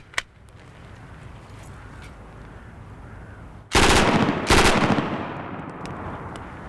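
A PPSh submachine gun firing blanks outdoors: after a single early crack, two loud close bursts of rapid automatic fire ring out, each trailing into echo, with no speech.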